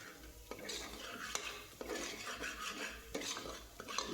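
Spice masala with coriander powder and asafoetida is stirred and sautéed in a pot for a mutton curry, with a spoon scraping and clinking against the metal in repeated strokes over a low sizzle, and nobody talks.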